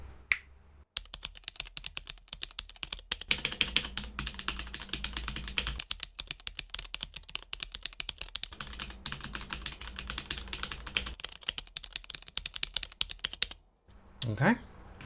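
Rapid, steady typing on a Keychron C1 mechanical keyboard modded to be quieter, a dense run of close clicking keystrokes with brief pauses at the start and end.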